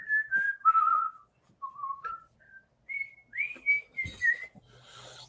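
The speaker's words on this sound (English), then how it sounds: "He's whistling while he twerks." A person whistles a halting, wandering tune in short phrases separated by pauses, close and clear, with a few faint thumps and rustles near the end.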